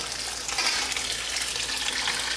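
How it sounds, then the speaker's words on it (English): Hot water at just under 180 degrees pours steadily over cheese curds in a container, a continuous close gushing splash with no break. "When you pour it in over the curds,"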